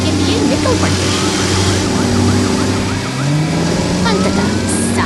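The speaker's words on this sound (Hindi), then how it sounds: "सायरन की गूंज शांत वातावरण को चीरती हुई सुनाई देती है" An emergency siren wails continuously over heavy engine and traffic rumble, loud and steady with rising and falling tones, while a voice talks over it.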